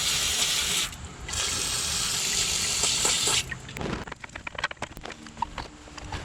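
Used engine oil drains from the 2JZ engine of a Lexus GS300 during an oil change, first as a continuous splashing pour, then breaking into scattered individual drips and small taps.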